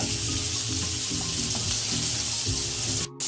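A continuous sizzle of pointed gourd frying in oil, with soft scraping and clinking of a utensil in the pan, briefly dipping just before the end.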